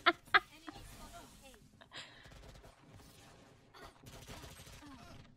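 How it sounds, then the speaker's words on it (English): Gunfire from the Valorant video game: two sharp shots ring out at the start, followed by a few lighter pops. A muffled voice talks over busy game sounds. "that's where the bullets are coming from"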